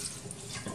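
Water poured into a cooking pot of mung bean rice with fried onions, a brief steady splashing stream, close and continuous for under a second.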